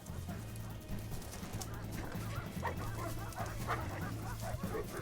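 Hunting dogs wearing protective neck and chest gear bark and yip while chasing feral pigs, the calls loud and repeated over a dense, noisy background with a voice talking over them.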